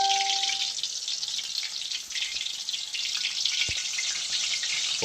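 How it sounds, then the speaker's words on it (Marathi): Octopus pakoda deep-frying in hot oil makes a loud, dense, continuous bubbling sizzle that holds steady throughout, close up and with no talk. "शिजवून घेऊ पूर्ण मस्तपैकी पकोडा"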